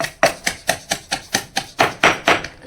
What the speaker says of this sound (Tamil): அடுத்து வந்து நம்ம வெங்காயத்தை சூப்பராக அடிக்க போகிறோம்